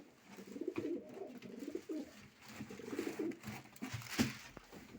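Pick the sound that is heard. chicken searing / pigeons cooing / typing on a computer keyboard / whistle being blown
pigeons cooing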